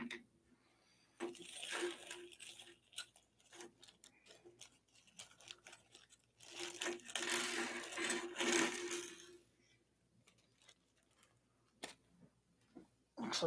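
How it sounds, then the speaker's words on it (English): A pile of small screws tips out in rattling, clattering bursts, the metallic jingles coming in several clusters with quieter gaps between, close and fairly soft, with no talking. "gonna dump a whole bunch of screws everywhere"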